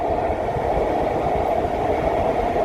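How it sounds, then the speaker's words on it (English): An REM light metro train in testing runs along its track, a steady rumbling roll with a broad hiss, heard at moderate distance and unbroken throughout. "There's train 53."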